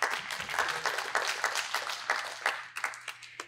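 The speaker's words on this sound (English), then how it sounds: "I think we can also applaud them" A modest conference audience claps at a finance roundtable, quiet scattered applause with some distinct individual claps toward the end as it thins out.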